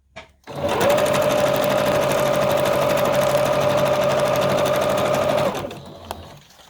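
Sewing machine stitching fabric for a collage quilt, one loud continuous whirring run of about five seconds with a steady hum, close by, then stopping with a light click.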